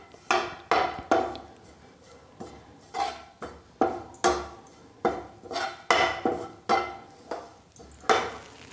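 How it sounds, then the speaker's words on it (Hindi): Nuts being dry-roasted in a pan without ghee for laddoos, with a run of sharp, irregular metallic scrapes and clinks from a spatula, close and fairly quiet, with no talking. "इसमें घी डालने की ज़रूरत नहीं है क्योंकि इसमें अपने आप ही ऑयल होता है। और इसको भी हल्का सा भूनना है"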